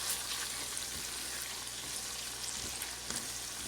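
Spices with red chili powder and salt stir-fry in hot oil for masoor dal, giving a steady close sizzle and crackle with faint stirring scrapes.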